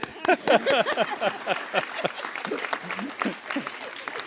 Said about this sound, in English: I'm supposed to lead the applause.